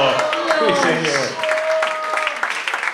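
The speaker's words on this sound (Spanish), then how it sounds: "Un aplauso para los chicos de La Palabra" An audience claps and cheers at a live student performing-arts show, a steady burst of applause mixed with excited voices shouting over it.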